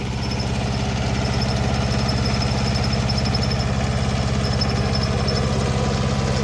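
A Kubota tractor engine idles steadily nearby during a potato harvest, a rhythmic low chugging with a faint metallic rattle, no voices.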